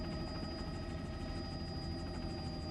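A helicopter flies above a canoe race on the Liffey, filming aerial shots. Its steady, rapidly pulsing rotor thrum holds constant and fairly distant for nearly three seconds.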